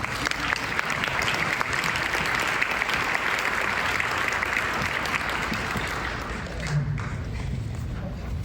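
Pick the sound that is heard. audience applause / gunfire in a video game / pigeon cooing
audience applause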